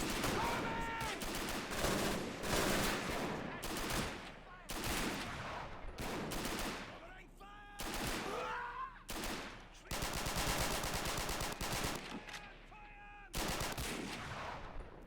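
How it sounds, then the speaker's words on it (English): Bursts of MG42 machine gun fire in the World War II strategy game Men of War: Assault Squad 2, loud repeated volleys with brief pauses between them, mixed with other gunfire in a hill fort battle. "There's an MG42 gunner up there. And infantry. Listen."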